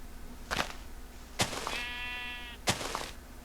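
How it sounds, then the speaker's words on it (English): Sheep bleating in a video game: a single wavering bleat in the middle with sharp percussive thunks before and after it, fairly quiet and with no talking. "But first, I believe I saw some sheep here."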